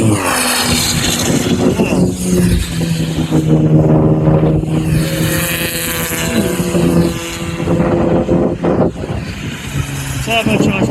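Ford Focus ST Mark 2 and other turbocharged cars roar past on the Donington Park race track during a track day, a continuous rushing drone with wind buffeting the microphone and a person talking over it.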